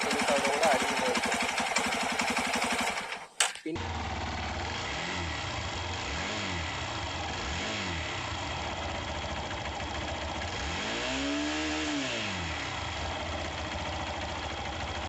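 A Hero Xpulse 200 BS6 motorcycle with about 15,000 km on it idles with a steady, even low rumble and a faint periodic throb. A short louder burst of other noise comes first, then cuts off sharply.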